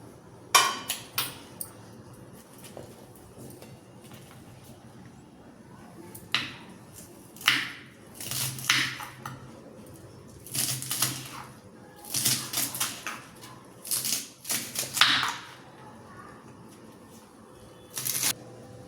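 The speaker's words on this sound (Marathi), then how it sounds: "आता आपण याला बारीक छान कापून घ्यायचं" A knife finely chopping radish pods on a board, irregular bursts of quick sharp taps and clicks, close by, separated by brief pauses.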